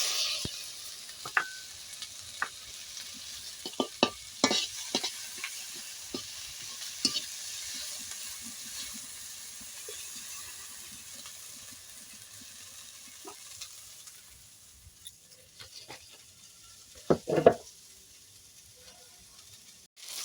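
Small prawns with turmeric, salt and spices fry in a pan, a soft steady sizzle broken by scattered spatula scrapes and knocks, with one louder clatter near the end.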